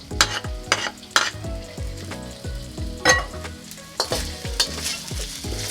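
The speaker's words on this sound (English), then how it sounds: "Throw in my garlic." Garlic sizzling and frying in plenty of oil over low heat in a pan, a steady crackling sizzle broken by repeated stirring and scraping strokes, close and fairly loud with no talk.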